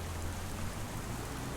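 Steady rain in a farming game, an even, soft hiss of falling water with a low background hum, continuous and unbroken from start to finish.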